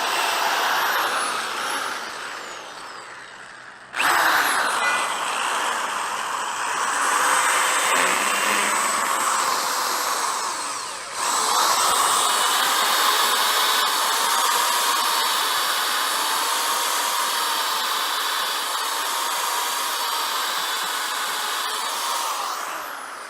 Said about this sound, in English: see if I can't drill through